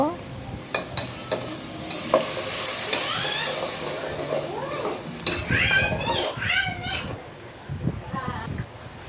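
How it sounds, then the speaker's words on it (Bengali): Spice masala sizzling in a pan while being stirred, scraping and clinking of the utensil over the frying hiss, with a cat meowing several times and a voice speaking. "এখন আমি মশলাটা ভালো করে কষিয়ে নিলাম"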